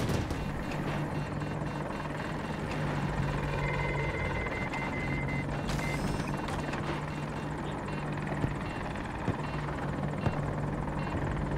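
Apache attack helicopter in Battlefield 2042, a steady close rotor drone and whine with gunfire and combat effects scattered over it, continuous and loud throughout with no talk.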